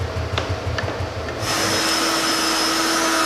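A hot-air plastic welder for repairing a car's front plastic bumper switches on with a soft click and then blows a steady, loud fan hiss with a faint whine, following a low hum before it starts.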